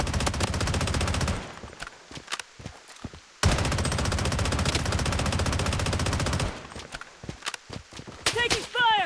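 Automatic gunfire in the shooter game Blood Strike, in solo-versus-squad mode. Two long, loud sustained bursts are separated by brief gaps, then short scattered shots follow near the end.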